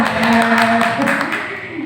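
Teachers at a school training session clap their hands in a short burst of fairly loud, close applause while a voice carries on over the top.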